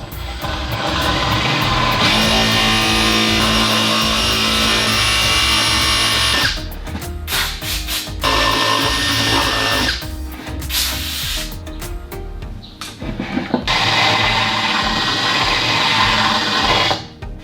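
Impact driver fitted with a file attachment grinds the frame of a boat workbench, making a loud, continuous whirring and rasping that stops briefly twice and then resumes.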